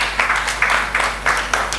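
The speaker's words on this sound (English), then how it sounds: "A round of applause, please." Applause breaks out from the audience at a Zimbabwean panel debate on women's equality, a steady patter of hands clapping with pulsing swells, moderately loud and with no talking over it.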